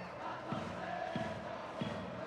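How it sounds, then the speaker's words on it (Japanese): A stadium crowd in the baseball video game Power Pros 2022 roars and cheers in repeated swells, with rhythmic chanting pulses rising about every half second over a steady din. "大きな声援が届いています"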